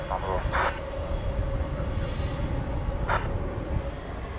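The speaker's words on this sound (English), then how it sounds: "An Airbus A321." Airbus A321 airliner, American Flight 1162, at DFW Airport, a steady broad engine roar heard from a distance with a couple of brief louder bursts, continuous throughout.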